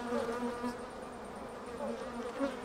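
Honeybees hum at an open beehive, a steady, close droning buzz with wingbeat tones that waver in pitch and swell as individual bees pass nearby.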